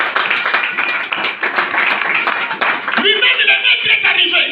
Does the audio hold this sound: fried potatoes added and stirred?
no